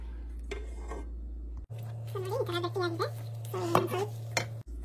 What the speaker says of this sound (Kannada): ಸೊ ಇದು ಗಟ್ಟಿಯಾಗೋ ತನಕ ಚೆನ್ನಾಗಿ ತಿರುಗಿಸ್ತಾ ಇರಬೇಕು